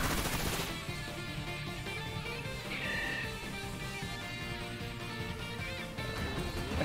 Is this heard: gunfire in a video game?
yes